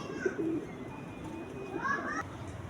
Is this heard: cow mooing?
no